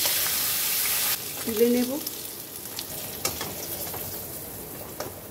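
Kalbose fish pieces fry in oil with a steady low sizzle, punctuated by scraping and clacks of a utensil turning them; a voice speaks briefly over the cooking.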